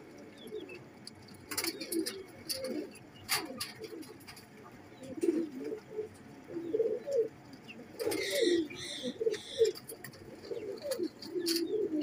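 Teddy pigeons, including a female, coo repeatedly in soft low phrases, with a few brief chirps and faint higher bird calls around them, fairly near and moderately quiet.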